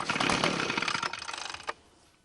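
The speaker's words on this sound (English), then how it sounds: "Pull the recoil twice and it'll sound like it's going to fire." An ECHO leaf blower's recoil starter is pulled, giving a loud rapid rattling, ratcheting burst of cord and engine turning over for about a second and a half before fading to quiet.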